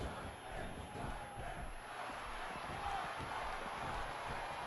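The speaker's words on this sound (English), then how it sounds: "It sounds like the crowd might be getting amped up for the champ." A continuous crowd roar fills a Pro Wrestling X arena, a dense, steady wash of cheering that stays at an even level throughout.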